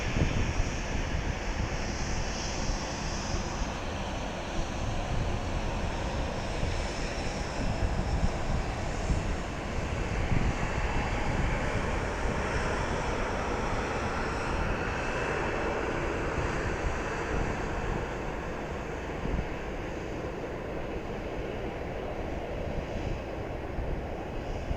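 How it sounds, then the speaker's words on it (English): An Embraer Praetor 500 business jet arrives at Dallas Love Field, its engines making a steady broadband roar at moderate distance, mixed with wind noise on the microphone and no talking. "It's arriving from Reading, I'm guessing Pennsylvania. It's an Embraer Praetor 500."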